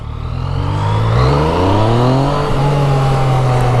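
A sport bike's engine revs up close and loud, its smooth drone climbing steadily in pitch and then holding high.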